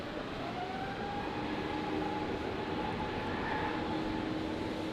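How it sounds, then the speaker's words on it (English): A China Airlines Airbus A350 rolls for takeoff on runway 19 left at Brisbane Airport, a steady broad roar of jet engines holding loud and even throughout, with no voices over it. "So the China Airlines 350 on the roll."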